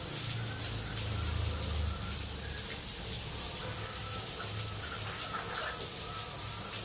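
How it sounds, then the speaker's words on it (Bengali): Water poured into a frying ginger garlic spice mixture in a pan, giving a dense, steady rush of hissing, bubbling sizzle with a low rumble that holds evenly throughout. "এখন পানি দিয়ে দিচ্ছি, অল্প করে পানি দিলেই হয় মশলা কষানোতে।"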